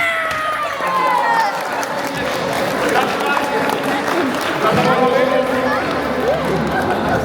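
A crowd at a charity tournament applauds and cheers after a shirt is auctioned off, with lively clapping and shouts filling the space and voices calling out over the noise.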